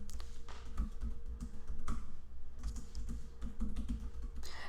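Close, quiet typing on a computer keyboard, a steady stream of light key taps with irregular rhythm and a few firmer strokes, heard alone without speech.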